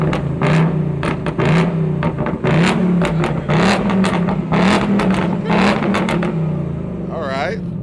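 A new Ford Mustang Bullitt engine revs hard in repeated surges, a loud throaty roar rising and falling, with voices chattering nearby throughout.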